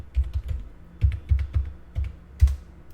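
Typing on a computer keyboard, entering a sudo command and password in a Linux terminal: a series of close, crisp key clicks in uneven bursts with short pauses, no voices.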